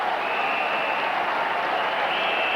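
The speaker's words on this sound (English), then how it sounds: "applause from Richie Richardson, the non-striker" Applause from a cricket crowd at the Oval during an England v West Indies Test match in 1991, greeting a Viv Richards stroke through mid-wicket off Phillip DeFreitas, heard as steady, dense clapping that fills the whole moment with no talking.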